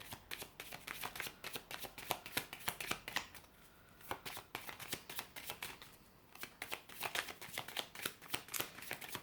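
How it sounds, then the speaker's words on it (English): Wellness oracle cards being shuffled by hand, a steady run of quick papery riffles and flicks with two short pauses, close and fairly quiet, no talking. "Let's get a few of these Island Time Wellness"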